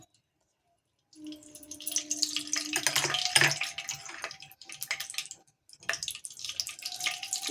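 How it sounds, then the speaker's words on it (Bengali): Ghee poured into hot oil in a pan sets off a sudden bubbling, crackling sizzle after a moment of silence, swelling loud and hissing, then easing and flaring again. "তেলটা আমার গরম হয়ে এসছে। এবার দেবো হচ্ছে আমি ঘি"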